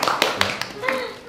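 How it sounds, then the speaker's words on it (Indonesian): A small group claps in a few distinct sharp bursts at an Independence Day classroom quiz gathering, the claps spaced apart and mixed with faint voices. "Kita kasih tepuk tangan untuk Sarah"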